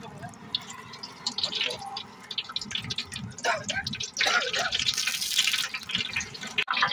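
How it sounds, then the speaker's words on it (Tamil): Clean coconut oil poured into a hot pan makes a trickling, bubbling pour that swells into a brighter hiss partway through, with a voice talking over it. "இப்போ நம்ம சுத்தமான தேங்காய் எண்ணெய் சேர்த்துக்கிறோம்"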